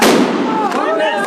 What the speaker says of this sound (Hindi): आतिशबाजी का दौर चल रहा है